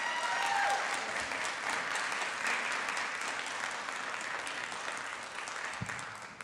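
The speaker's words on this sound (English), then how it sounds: "So please give them a round of applause." People at a city council meeting give a round of applause, a steady burst of many hands clapping that fades slightly over several seconds.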